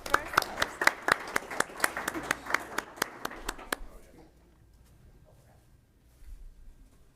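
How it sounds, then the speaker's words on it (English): Attendees at a city council meeting clap together in a short burst of close, distinct hand claps for about four seconds, which then stops abruptly, leaving quiet room tone and faint murmuring. "Clap for ourselves."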